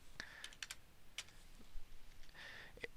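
Keys are tapped on a computer keyboard while drafting lines with polar tracking in CAD software, giving a few quick, scattered clicks in short bursts, close and fairly quiet, with no voice.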